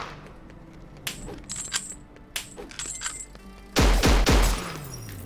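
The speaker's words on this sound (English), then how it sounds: "firing it around corners while you're moving, because it just leaves like an arc of bullets behind you" Gunfire from a weapon in a VR shooter game, heard as a few scattered light shots and clicks, then two loud, close bursts of fire near the end, with no talking.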